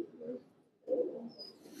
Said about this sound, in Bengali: দেখতে সুন্দর একটা পাঙ্কি স্টাইলের কবুতর